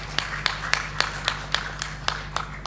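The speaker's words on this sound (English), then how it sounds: "Let's give applause to" Sparse, evenly spaced claps ring out at a conference, about ten sharp hand claps in a steady rhythm over a low hum, fairly quiet and thin rather than a full audience ovation.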